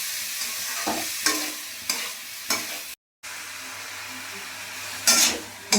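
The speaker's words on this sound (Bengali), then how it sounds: "ডাল দিয়ে কি বলে লাউ ভাজা ভাজা হয়ে গেল" Bottle gourd and lentils fry in a pan with a steady hissing sizzle, broken by several sharp scrapes and clatters of stirring and one brief dropout.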